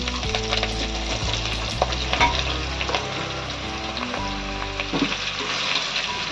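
Bottle gourd with ginger paste and green chillies sautés steadily in a hot pan, a continuous loud sizzle with occasional stirring scrapes and no voices.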